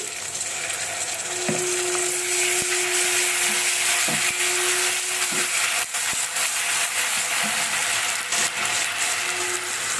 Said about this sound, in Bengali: এখন আমি দেব পেঁয়াজ আর রসুন বাটা এই যে পেঁয়াজ আর রসুন বাটা দিয়ে দিলাম